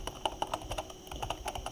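Rapid clicking keystrokes on a computer keyboard as a web address is typed, close and crisp, with irregular bursts of taps and short pauses.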